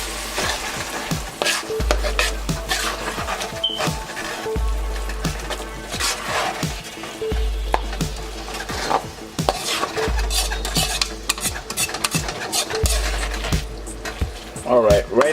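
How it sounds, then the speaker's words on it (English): A spoon repeatedly scrapes and clanks against a cooking pot while fish stew sizzles and fries underneath, a steady rhythm of stirring strokes close by, with a voice talking intermittently. "you have to keep mixing your food because you don't want the food to burn"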